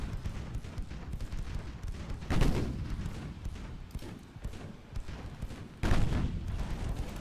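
Naval guns firing in a 1910s-era naval video game, with sustained rumbling gunfire throughout and two sharp, louder blasts standing out, one early and one near the end.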